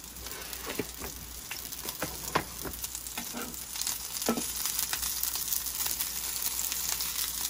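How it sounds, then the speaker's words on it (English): Chicken burger patties sizzle steadily in a frying pan, a continuous crackling fry with scattered sharp pops and spatters throughout, close and fairly loud with no voices. "Frying the hamburger, but instead of beef"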